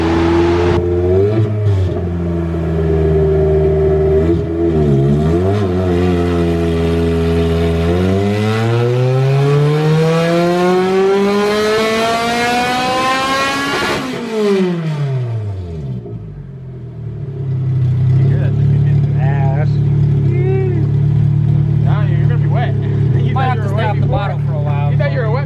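A Honda K24 engine in a Bisimoto wagon on dyno rollers revs hard, climbing steadily to a high-pitched scream into VTEC, then drops off and settles back to a loud, rumbling idle, with voices talking over it.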